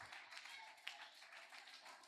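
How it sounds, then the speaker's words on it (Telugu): Applause from an audience of children at a vacation Bible school, steady faint clapping running throughout, distant and thin. "అందరూ సూపర్ క్లాప్స్ ఇద్దాం అక్కకి."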